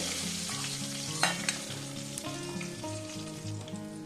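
Pieces of katla fish fry in hot oil until reddish, giving a steady sizzle with a few sharp clinks from stirring. Soft sustained tones run underneath, and no one speaks.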